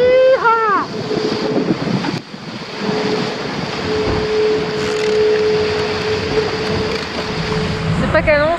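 Big ocean waves rush and surge around a sailboat running downwind on the open sea during a Mini Transat offshore race stage, with steady wind buffeting the microphone and a voice calling out briefly at the start.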